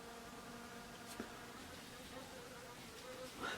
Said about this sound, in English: Bobo, look at the size of this wasp.